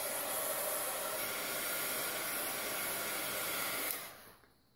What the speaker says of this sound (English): if you just hold it while you're doing your heat gun, it will dry flatter.